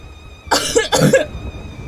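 A single close, loud cough broken into two harsh bursts, from someone who has just swallowed a mouthful of seawater while a wave hits their face, followed by quiet.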